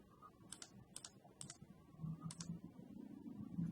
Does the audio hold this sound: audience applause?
no